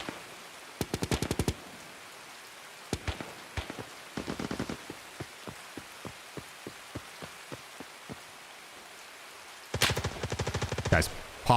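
In Escape From Tarkov, bursts of automatic gunfire ring out at a distance, with a run of evenly spaced single shots between the rapid volleys.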